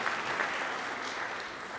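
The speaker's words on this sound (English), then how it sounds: "let's give these kiddos a round of applause this morning" A church congregation at a Palm Sunday worship service applauds children, a steady, dense wash of clapping that fills the room throughout.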